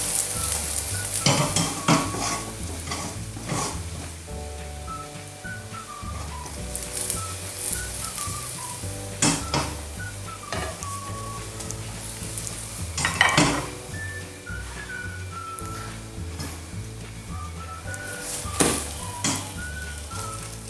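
Chaozhou-style dried radish omelette frying in a pan: a soft continuous sizzle broken by sharp scrapes and clinks of a spatula as it is turned, with whistled melody playing in the background.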